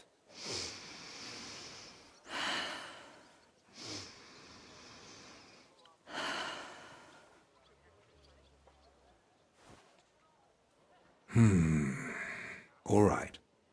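Deep breathing in the video game Mysteria Ecclesiae: a run of slow, loud inhales and exhales, each lasting a second or more with gaps between, followed near the end by heavier, rougher breaths close to the listener.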